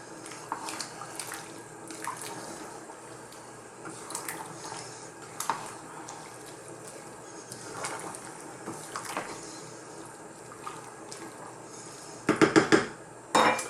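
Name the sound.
stirring black-eyed pea and potato curry in pot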